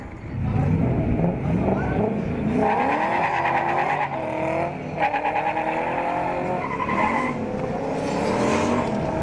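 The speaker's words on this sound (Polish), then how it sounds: "i ruszyli zawodnicy do wielkiego finału" Drift cars launching into a motorsport final at a Kielce event, engines revving hard with tire squeal and skidding, loud and sustained, with rising and falling engine notes throughout.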